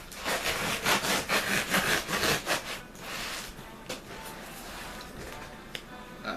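A trusty knife scrapes and slices through cardboard and packing tape on a box holding an X-Plus Godzilla 1991 figure, rapid rasping strokes in a quick rhythm for about three seconds, then softer scratching and a few light taps, close and quiet.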